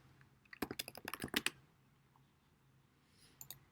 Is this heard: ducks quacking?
no